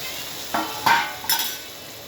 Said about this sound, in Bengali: এর মধ্যে আলু কপিটাই ফ্রাই করে রেখেছিলাম ওটা দিয়ে দিব।